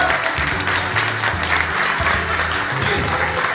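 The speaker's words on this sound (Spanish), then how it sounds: "Un aplauso también para ellos." An audience applauds the visiting fire companies at a fire brigade's 46th anniversary ceremony in Lontué, giving dense, sustained clapping from many hands that fills the whole stretch at a lively, even loudness.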